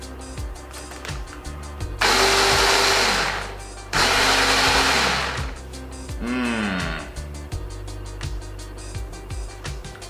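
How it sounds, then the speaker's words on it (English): An electric blender whirs as it purees a parsley, vinegar and olive oil sauce in two loud bursts of several seconds each, with a short third pulse after them and a background hum between. "And then we just blend."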